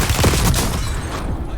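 A short, loud burst of gunfire rattles out during a Call of Duty Warzone match in Verdansk, a quick cluster of close shots that tails off.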